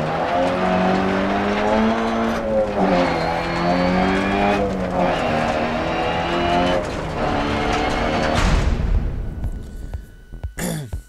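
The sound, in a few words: rally car driving and skidding in video game Dirt Rally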